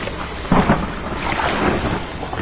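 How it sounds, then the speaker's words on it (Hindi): A poor fisherman's small boat rowed toward shore, with steady washing water and breezy noise throughout and a fuller splash about half a second in; no voices. "नाव को खेकर किनारे पर चल दिया"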